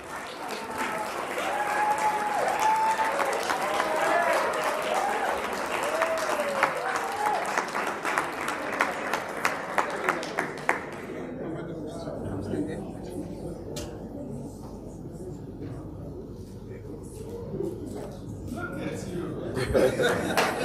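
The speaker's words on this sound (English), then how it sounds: "Another round of applause for Nsako Manuleka." Sustained audience applause fills a gala dinner hall for a student award, dense clapping with some chuckles and cheering voices, fading after about eleven seconds into quieter crowd murmur and a little talk.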